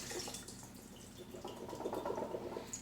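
Canned chickpeas drained into a sink, liquid splashing and dripping steadily for a few seconds, fairly quiet, with a brief faucet-like trickle and no talking.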